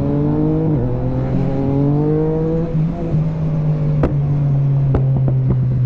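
A 2017 Yamaha MT-09 naked motorcycle, its engine note holding and shifting pitch on the move, followed by several sharp exhaust pops and crackles as the throttle closes.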